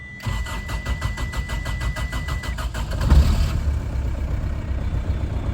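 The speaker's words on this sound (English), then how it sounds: "This thing fired up here." Swapped-in VW ALH 1.9 TDI diesel in a 1992 Daihatsu Rocky starting without glow plugs on a chilly day: steady rhythmic cranking, then the engine catches around three seconds and settles into a loud, close diesel idle.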